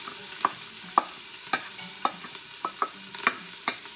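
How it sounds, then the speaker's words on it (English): Chopped onions sizzle in olive oil at the bottom of a soup pot while a spoon stirs them, knocking against the pot in a steady rhythm of sharp taps every half second. "I'm gonna go ahead and put in my olive oil first, so it coats the bottom of the pot really well, okay? And then I'm gonna put in my chopped onions."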